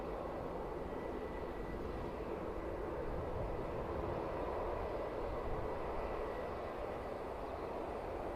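A Falcon jet at Manchester Airport produces a continuous, fairly faint engine rumble and hiss, steady and unbroken from start to finish with no voices.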